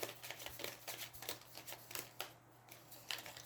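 Playing cards being shuffled for a game of Aeons End, a quiet run of soft, rapid riffling bursts, near and fairly faint, coming in repeated short clusters.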